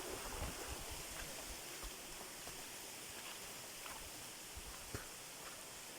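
Steady rushing water roars continuously from a nearby waterfall, a broad wash of noise, with occasional faint knocks and splashes.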